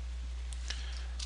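Mouse clicks while working in MS3D modeling software: a few faint, sharp ticks spaced apart over a steady low hum, with no talking.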